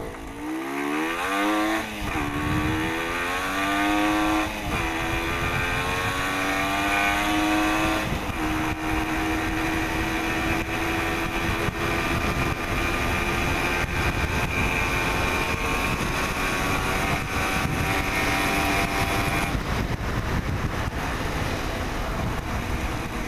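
WSK 175 motorcycle, a two-stroke single, revving hard to high rpm, the engine note climbing steeply then holding a loud, buzzing high pitch for a long stretch, close by with wind buffeting the microphone.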